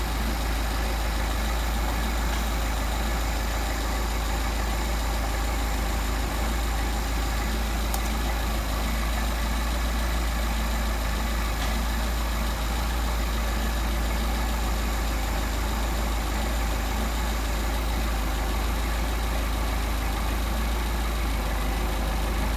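Mercedes 190SL engine with Solex 44PHH carburetors idling at about 650 to 700 RPM, a steady continuous rumble heard close and loud throughout, with no speech.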